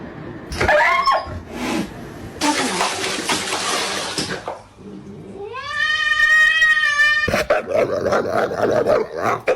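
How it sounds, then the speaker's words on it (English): Cats yowling and meowing while one plays in water, with rising pitched cries in the middle and splashy broadband noise, loud and close, mixed with other voices and clatter. "What is wrong with them cats?"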